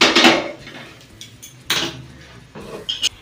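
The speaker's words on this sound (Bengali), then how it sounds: "পকোড়ার জন্য কড়াই চাপিয়ে দিচ্ছি।" A wok being set on the stove for frying pakoras makes a loud metallic clank at the start, followed by a few sharper knocks and scrapes of metal against the burner.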